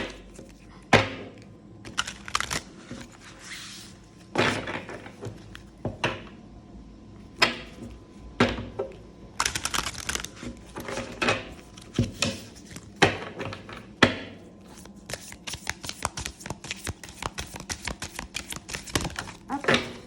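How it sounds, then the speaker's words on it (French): Large oracle cards being shuffled by hand, a run of crisp riffling taps and slaps at an irregular rhythm, close and fairly loud, with no talking over it. "Je vais mélanger le jeu. C'est des grandes cartes."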